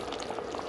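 A tomato and masala mixture bubbles in a pan, a steady close simmering crackle with soft pops and a broad hiss that continues evenly throughout.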